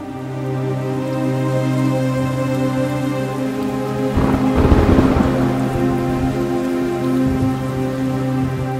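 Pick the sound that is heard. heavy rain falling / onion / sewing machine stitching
heavy rain falling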